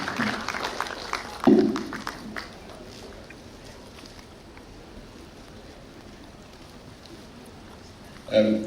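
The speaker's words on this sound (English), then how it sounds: "Please, can we keep clapping for him as he comes forward?" An audience at a conference keeps clapping as a speaker walks forward, a steady, moderately loud wash of applause with a few sharper bursts near the start and end.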